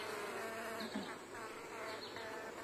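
Steady buzzing of many honey bees close by around an opened hive's top cover, a continuous insect drone with no talking.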